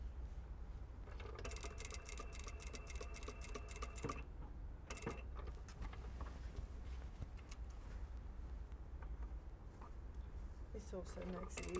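A sewing machine runs a close-to-the-edge stitch along a shirt collar at the neckline, its rapid mechanical whir coming in steady bursts with short pauses, heard close up alongside faint background noise.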